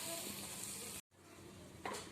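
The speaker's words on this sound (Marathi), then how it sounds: "कांदा आता आपला हळूहळू लाल होत आहे" Onion sautéing in a pan, a faint steady sizzle with a brief dropout and soft stirring scrapes near the end.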